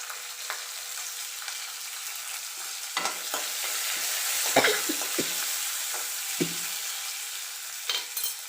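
Ginger, green chillies and curry leaves fry with mustard seeds in a hot pan, giving a continuous close sizzle broken by a few sharp stirring scrapes and taps.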